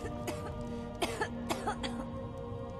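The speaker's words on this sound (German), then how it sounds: "Da hustet wer." A character in Skyrim coughs several times in short, harsh bursts with a throat-clearing quality, spaced over about three seconds against a steady game ambience and no talk.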